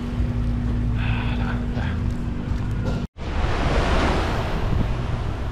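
Ocean surf and gusting wind on Jomtien Beach in Pattaya, Thailand, roar as a continuous broad wash with buffeting wind noise on the microphone, briefly cutting out before a fuller rush of waves.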